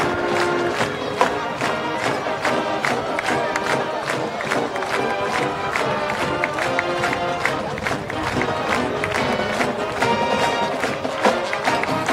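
A packed high school football stadium crowd roars and cheers continuously in Texas, dense shouting mixed with drums and band music during the fight song, loud and sustained throughout.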